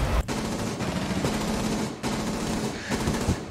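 Rapid automatic gunfire in a shooter video game, dense, loud and continuous bursts of shots with sharp cracks and a brief pause near the end.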